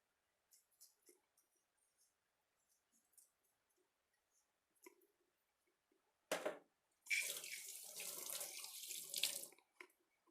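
Water is poured into a pork curry with axone and taro in a clay pot: a short splash, then a steady pour lasting a few seconds, close and fairly quiet, after light scattered clicks.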